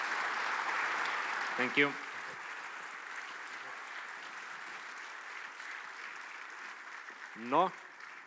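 An audience at a Microsoft Slovenia conference applauds steadily and broadly throughout, with a speaker briefly saying a few words over the clapping near the start and again near the end.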